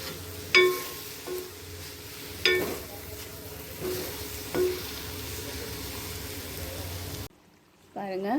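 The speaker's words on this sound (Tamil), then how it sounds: "இப்போ இந்த பொரியலில் ஒரு முட்டை உடச்சிருக்கேன். இதை இப்போ நம்ம கிளறிட்டு இறக்கிடலாம்." A spoon stirs a radish and egg stir-fry in a hot pan, with a few distinct scraping strokes over continuous sizzling before a short pause.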